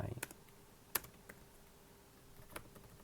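Computer keyboard typing a command during a network and Active Directory check, heard as a few sparse, quiet key clicks with one sharper tap, over a faint hum.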